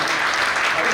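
An audience applauds at a Hindi poetry gathering (kavi sammelan), with dense, steady clapping from a large crowd that fills the moment loudly and continuously.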